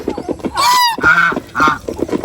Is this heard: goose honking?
yes